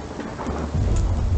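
Steady rain with a low rumble of thunder swelling partway through, from the hidden-object game Mystery Trackers: Black Isle, heard alone and fairly loud.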